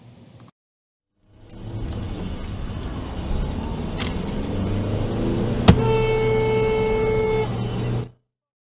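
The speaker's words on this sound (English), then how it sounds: "there's a semi-truck here who starts honking at everybody" A loud semi-truck horn blasts and holds for a couple of seconds over steady road traffic and engine rumble in Portland.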